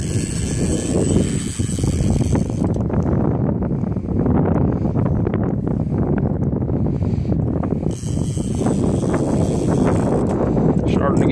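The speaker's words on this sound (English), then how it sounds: "Get windy out here." Steady, heavy wind rumble over open water buffets the microphone throughout, a dense low roar with gusty surges and faint voices underneath.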